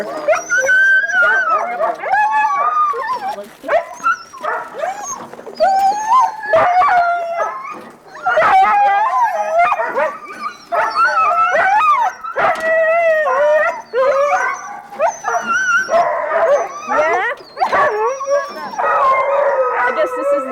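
Many sled dogs howl, yip and bark together in a loud, continuous chorus, with whimpers mixed in, close and excited.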